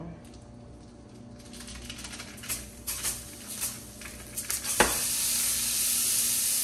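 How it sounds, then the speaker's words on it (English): Raw ground beef lands in a frying pan and begins a soft, building sizzle, with a few scattered taps and clicks before the hiss swells and holds steady near the end. "Since ground beef produces its own oil, I'm gonna just throw it in the pan."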